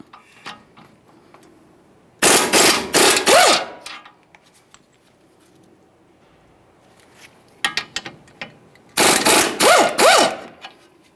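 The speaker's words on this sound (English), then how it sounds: "We'll be using an 18mm for each of these 4 mounting bolts." An impact tool breaks loose 18mm wheel bearing hub mounting bolts on a 2015-2020 Ford F-150, two loud bursts of rapid hammering rattle a few seconds apart, with quieter clicks and clanks between.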